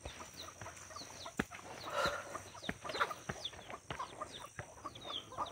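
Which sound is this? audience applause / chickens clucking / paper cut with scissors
chickens clucking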